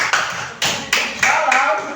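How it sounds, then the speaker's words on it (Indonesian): A teacher and classmates clap hands in a classroom, several uneven rhythmic bursts of clapping, fairly close, with talking underneath. "Kita tepuk tangan dulu buat kita dan teman-temannya."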